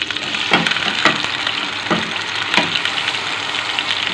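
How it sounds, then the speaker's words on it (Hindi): Chopped onion sizzling in half a cup of hot oil in a pan, a steady broadband hiss with a few louder crackling bursts, close and fairly loud, no talking. "इसमें ये चॉप की हुई प्याज डालिए"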